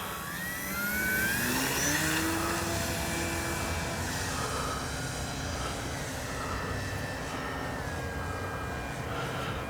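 A Flex Mamba 10 G2 radio-controlled model airplane carving through the sky, its electric motor whining and sweeping in pitch as it passes at a distance, a continuous droning buzz that rises and falls with no talking.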